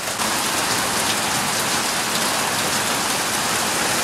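Steady, dense rain pours down without a break, a loud continuous hiss of drops striking surfaces with no voices or other sounds over it.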